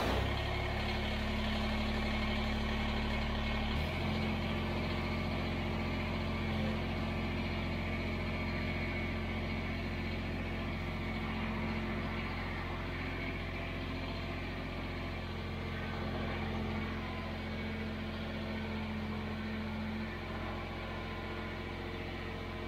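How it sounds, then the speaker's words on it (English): A Kubota BX23s compact tractor engine starts and then runs steadily, with a close, continuous droning hum and a shift in tone after a few seconds as it settles and drives, with no talking. "I'm gonna start the tractor and we are going to drive up and connect to the snowblower."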